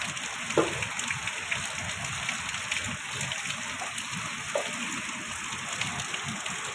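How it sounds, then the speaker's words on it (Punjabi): Continuous gushing of water running through a drain channel beside flooded fields, steady and moderately loud, with a faint high electronic whine and no talking. "ਕਿਵੇਂ ਚੱਲਿਆ ਪਾਣੀ ਭਰ ਕੇ ਨਾਲੀ"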